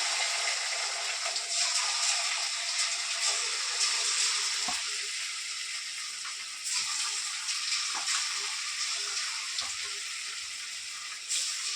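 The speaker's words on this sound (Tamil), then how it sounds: "அந்த சிக்கனை ஒன்றொன்னா எண்ணெயில் போட்டுடலாம்" Chicken 65 pieces fry in hot oil with a steady, close sizzle and crackle that holds throughout, broken by a few soft clinks from the pan.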